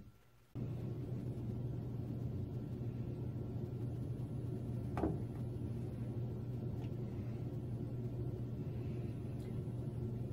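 A room air conditioner runs with a steady low hum and rumble throughout, a constant droning background with a single faint click partway through and no voices.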